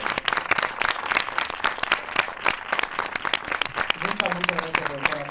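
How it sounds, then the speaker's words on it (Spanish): A festival audience applauding animator Nora Twomey after her masterclass, steady dense clapping from many hands, with a voice beginning to speak over the final moments. "por favor, un aplauso."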